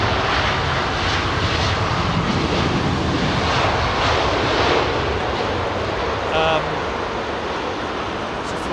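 An airliner touches down on runway 27R at London Heathrow with a loud, sustained jet engine roar and rushing air, while people talk over it.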